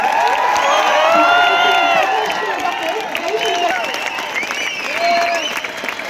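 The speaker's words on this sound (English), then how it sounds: "Please welcome him with a big round of applause." At a university event in Hubballi, a large audience greets a visiting cabinet minister with loud applause, cheering and high whoops. The noise swells early and then settles into continuous clapping with shouted voices.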